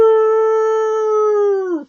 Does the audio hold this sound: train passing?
no